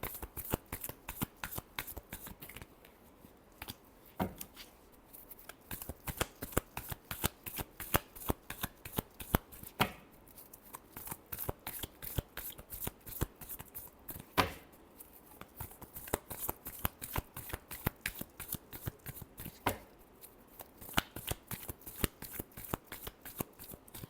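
Tarot cards shuffled by hand in a steady, rapid riffle of crisp paper flicks that repeats close up for over twenty seconds, with brief pauses between rounds and no talking.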